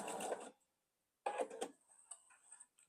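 A domestic sewing machine stitches a quilt block seam in two short runs of rapid mechanical stitching separated by a pause, with light clicks and rattles after.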